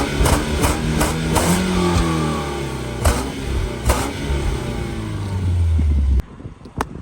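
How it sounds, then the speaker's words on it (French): A four-cylinder petrol car revs and passes nearby, its engine note rising and falling with sharp clicks and knocks, then cutting off abruptly near the end. "4 cylindres essence ça fait un bruit de merde, mais on va vous faire écouter quand même le bruit"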